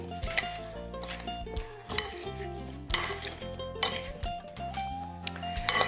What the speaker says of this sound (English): Go ahead and stir this up.